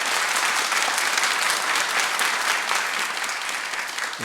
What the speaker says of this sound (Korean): 우리 큰 박수로 우리 한번 환영하도록 하겠습니다